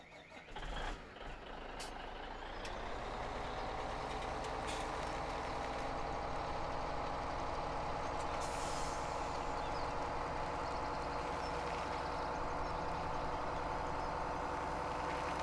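A truck in the Farming Simulator 17 video game starts up into a steady, continuous engine drone with a faint hiss at the start, loud and unbroken with no talking.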